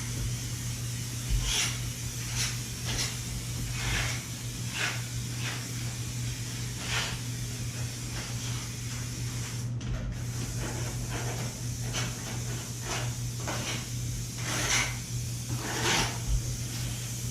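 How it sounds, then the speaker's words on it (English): Corner bead adhesive sprayed from a can during a house remodel: steady hissing spray bursts repeating at irregular intervals, faint and close over a constant low hum. "you shake it up and you spray it"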